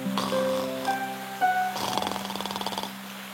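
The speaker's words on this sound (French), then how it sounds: "Il ronflait si fort qu'il en faisait trembler les branches." A sound-effect snore for the sleeping wolf in Le Loup et les 7 Chevreaux, rising over soft tonal music into a quick run of rhythmic rasping pulses that fade out.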